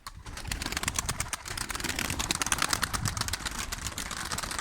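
Pigeons in a coop burst into flight together, dense flapping wingbeats layered over soft cooing and calls, continuous and fairly close throughout.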